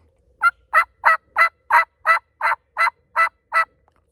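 A hand-operated turkey call mimics a hen turkey's basic yelp: ten evenly spaced, sharp yelps in a steady rhythm, loud and close, alone in a quiet setting.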